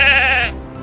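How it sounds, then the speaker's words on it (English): Sheep bleating once, a loud, close, wavering bleat lasting about half a second before it fades into quiet farmyard background. "Sheep."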